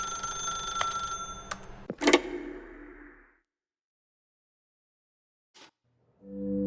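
A telephone rings in the video game The Stanley Parable with a bright trilling bell under a low hum. It stops abruptly and the silence is broken by one faint click.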